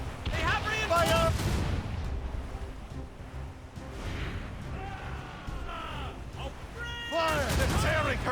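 Naval cannon broadsides in a sea battle in Assassin's Creed Rogue, loud booming shots amid crashing waves and battle noise, with shouting voices over the top.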